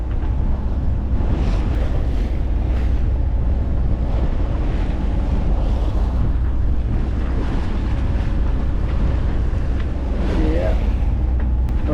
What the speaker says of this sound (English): You can see the waves crashing on the jetty up there.